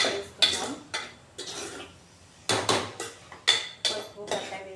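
A utensil stirs a curry of drumsticks and raw prawns in a metal pan, with a series of close, sharp scrapes and clinks in an uneven rhythm and quiet gaps between strokes.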